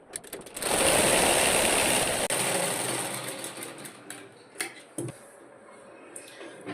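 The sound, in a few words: sewing machine running a long stitch on fabric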